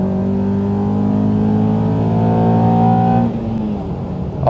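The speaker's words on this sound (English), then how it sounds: "we're going to do a little cheeky rolling race along here just to get an idea of which car might be faster" A Toyota Altezza and a Honda Accord accelerating side by side in a rolling race, a loud close engine drone climbing steadily in pitch before a sudden gear change, with no talk.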